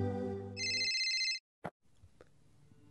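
Telephone ringtone sound effect, a bright electronic ring tone chiming twice, then a short click as it is answered, followed by quiet room tone.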